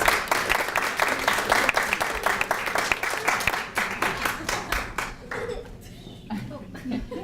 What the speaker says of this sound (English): So I'd like to give them a little round of applause.